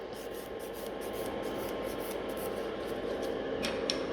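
A 100 grit file rubbing down a lifting gel nail, a soft, rapid, rhythmic scratching of repeated back-and-forth strokes, close and fairly faint with no talking.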